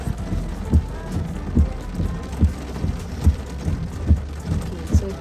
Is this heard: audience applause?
no